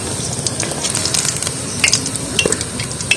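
Fig pakoras bubbling and crackling in hot oil, a steady loud sizzle with occasional sharper pops and spits throughout, no voices.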